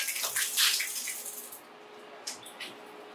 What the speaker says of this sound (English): You're going to get a little water out of that, but not a lot.